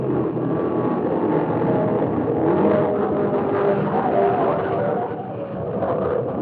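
An SCCA Trans Am race car runs on a road-racing circuit with a continuous, loud engine roar that holds at a steady pitch. The sound is muffled and narrow-band, and distinct gear changes are hard to pick out.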